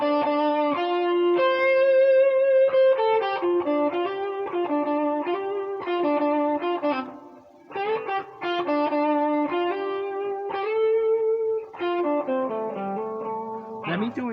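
A picked banjo-style lick from the fiddle tune A Hard Road To Travel, a steady run of plucked notes with hammer-ons, played solo and clearly up close with one brief pause midway.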